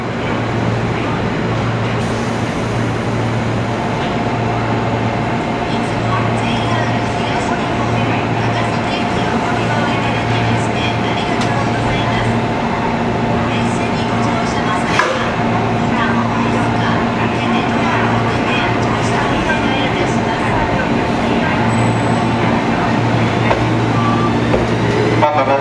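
A JR East 211 series local train on the Ryomo Line pulls out of Takasaki Station, its steady motor hum and rumble running for the whole stretch, with station ambience around it and a brief clank midway.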